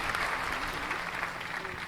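Brisk applause from a listening audience at a Lucknow poetry recital, a short, dense wash of many clapping hands, steady and fairly loud throughout.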